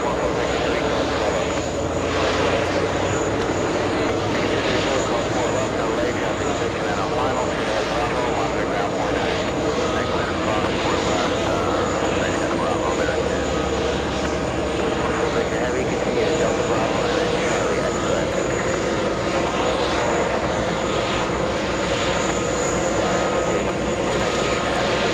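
Airliner landing at JFK airport, a loud, steady roar of jet engines sustained throughout, with a person talking over it.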